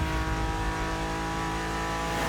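A modded LBWK-kitted BMW in The Crew Motorfest racing game holds a loud, steady engine note with layered harmonic whine, sustained throughout without speech.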